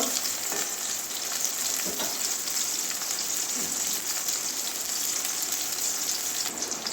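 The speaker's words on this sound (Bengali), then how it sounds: "খুব বেশি ভাজবো না হালকা একটু ভেজে নেব উচ্ছের কাঁচা গন্ধটা যাওয়া পর্যন্ত" Sliced bitter gourd fries lightly in oil in a pan, giving a steady, close hiss and crackle with occasional sharper pops and no talking.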